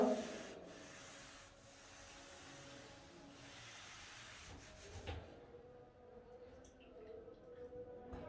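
Chalk or marker writing being rubbed off a classroom board during a tenth-class maths lesson, a steady scraping, brushing sound running for several seconds up close, easing off toward the end.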